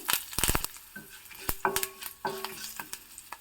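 Curry leaves, turmeric and asafoetida sputter in hot tempering oil, with sharp crackling pops and stirring scrapes in an uneven rhythm, close and clear with no talk.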